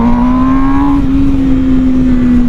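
An MV Agusta Brutale 1000 motorcycle engine drones loud and steady close by, its pitch holding nearly level through a quick-shifter downshift with a brief change in tone partway.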